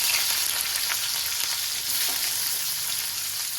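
Raw onion and black cumin frying in hot oil in a pan, giving a steady, dense sizzle that stays loud and close throughout with no talking.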